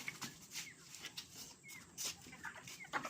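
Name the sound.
pet hens clucking on rooftop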